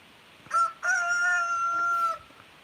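A rooster crows once near a farm in rural South Dakota, a short rising opening note followed by a long sustained harmonic call, loud and clear with no talk over it.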